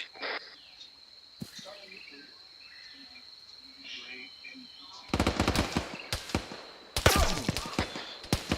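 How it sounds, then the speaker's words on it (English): Rapid bursts of gunfire in a military squad shooter game crack out in close, loud clusters after a quiet stretch of chirping insect ambience, with a faint voice underneath. "Shots west."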